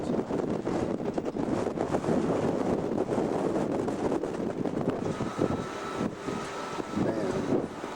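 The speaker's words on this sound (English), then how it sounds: "Wind switched directions." Strong wind on a beach after Super Typhoon Omar, a loud, continuous roaring rush buffeting the microphone for the whole stretch, with no clear talking.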